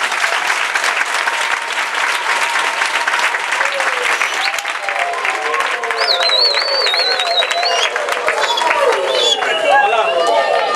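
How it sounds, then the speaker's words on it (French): Sustained crowd applause at a school gathering, a thick continuous patter of many hands with cheering, whistles and overlapping voices rising over it toward the end. "Est-ce que nous pouvons applaudir pour les chefs de l'État?"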